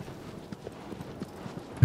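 A horse in Shadow of the Colossus clip-clops over rough ground, soft quick hoofbeats in an uneven rhythm, quiet and close.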